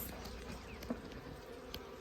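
Honeybees buzz around a hive, a faint steady drone with individual bees passing close by, and no voices.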